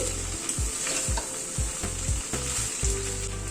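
Rice stirred with spices in a frying pan sizzles steadily and closely, with a spatula scraping the pan in regular strokes about every half second under the constant frying hiss.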